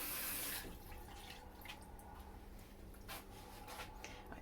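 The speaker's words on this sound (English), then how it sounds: "Right, this is water." Tap water running into a baking dish of root vegetables for an autumn vegetable bake, a short gush at the start fading to quiet trickles and drips close by.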